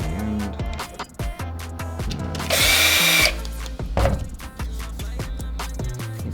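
A power driver runs screws back into an Xbox Series X/S controller housing, with one loud sustained whir of about a second midway, amid softer handling clicks and brief mechanical bursts.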